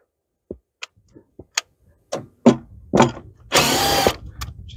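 A power tool on a Yamaha YXZ side-by-side buzzes through short ticking pulses and then a longer whirring run while removing two 10mm bolts from the front A-arm guard, close and clear with no talk.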